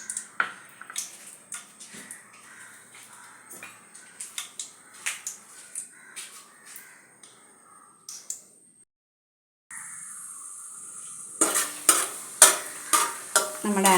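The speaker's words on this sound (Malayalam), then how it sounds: "അണ്ടിപ്പരിപ്പെല്ലാം നെയ്യിൽ വറുത്തു." Cashews and raisins frying in ghee in a pan, with repeated sharp scraping stirs over a soft sizzle. A brief silence follows, then a louder, brighter stretch of quick stirring strokes.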